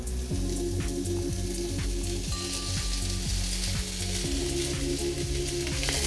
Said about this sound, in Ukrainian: І спочатку я обсмажую цибулю. Обсмажити цибулю треба до такої напівпрозорості.